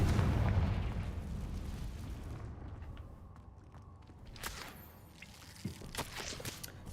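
A Confringo spell explosion in the video game Hogwarts Legacy gives a deep, rumbling boom that slowly fades, followed by scattered smaller pops and crackles with no talking.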